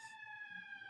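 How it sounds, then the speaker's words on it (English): Faint police or emergency siren somewhere in Chicago, a steady tone held throughout, distant under low background noise. "Is that the siren call of Chicago?"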